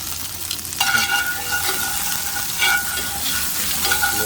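Shrimp scampi ingredients with a squeeze of lemon juice and a dash of hot sauce being stirred and mixed in a sizzling pan, with steady frying hiss, scraping strokes and a few louder clatters of the utensil, no talking.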